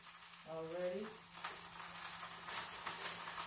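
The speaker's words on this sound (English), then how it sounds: "Sizzle popping." Vegetables sizzle and pop steadily in a hot pan, a continuous hiss close by with a brief tonal sound near the start.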